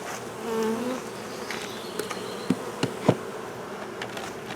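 Honeybees hum as a steady, dense buzz over an open beehive during an apiary check, with a few sharp knocks and clicks from handling the wooden hive boxes partway through; no voices.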